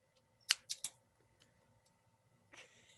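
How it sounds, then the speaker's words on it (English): A pair of scissors handled close to the microphone, giving three quick, crisp metallic clicks in a row, then a softer click a moment later in an otherwise quiet room. "I have my scissors here"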